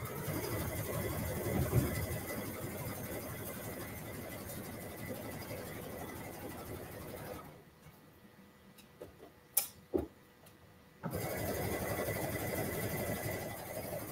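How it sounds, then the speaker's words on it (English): A sewing machine runs steadily, stitching a wearable blanket in black fabric with pins along the seam. The whirring hum continues, stops for a few seconds of near silence broken by a couple of clicks, then resumes. "I can't decide if I wanna sew over the pins or I wanna pull them out."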